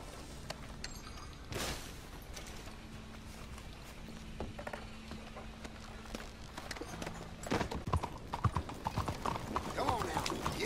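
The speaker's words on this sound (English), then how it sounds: "Come on now, giddy up." Hooves clip-clop steadily under a horse ridden in Red Dead Redemption 2, with a faint whinny and ambient game sounds; a voice speaks over the trotting, which grows louder and busier toward the end.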